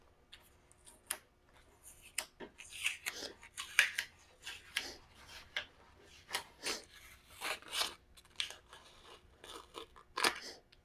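A utility blade picks up and slices Frogtape laid along a wood joint, giving a string of close, crisp scraping and snipping bursts at an irregular pace, with no voices.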